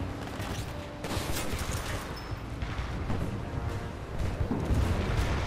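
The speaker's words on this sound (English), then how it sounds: "Cooper, we can't move up while those guns are firing" Steady barrage of gunfire from a gun platform in the video game Titanfall 2, dense rattling shots with booming impacts that hold at a fairly even level and swell slightly toward the end, with no voices.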